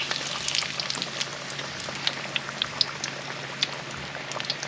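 Catfish frying in peanut oil at about 350 degrees, a steady dense sizzle with scattered sharp pops and crackles running throughout, fairly close with no talking.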